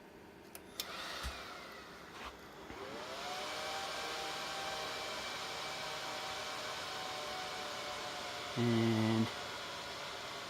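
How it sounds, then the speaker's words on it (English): Dell R210 rack server powered on in a rack beside a UPS, its fans spinning up into a loud steady whoosh that holds, with a short beep near the end; one brief spoken word at the start. "So I'm going to turn it on and show you guys what it sounds like"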